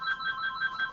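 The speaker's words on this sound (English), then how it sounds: "sorry about the phone ringing" A phone rings in a repeating electronic warble of short pulses, fairly clear but moderate in level, with no talking over it.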